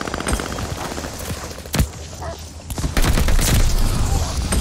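Gunfire in Call of Duty Vanguard multiplayer, rapid sharp shots and bursts crackling close by over a busy battlefield din, swelling into heavier sustained fire toward the end.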